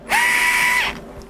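A cordless powered screwdriver, adjustable for torque, drives a screw into a 3D printed motor thrust stand in one steady close whirring burst of just under a second that then stops.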